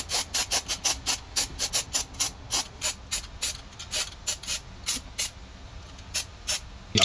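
Spray paint is applied to a car wheel cover in a rapid series of short hissing bursts, close and sharp, separated by brief pauses in an uneven rhythm.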